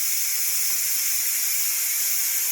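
Steam hisses steadily from the pressure release valve of a Ninja Foodi pressure cooker, a loud, constant, unbroken rush that holds its level throughout.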